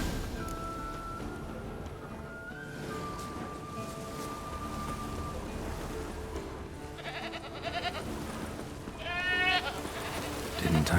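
A goat tied to a stake in The Witcher 3 bleats a few times near the end, wavering calls over steady game ambience with a voice talking.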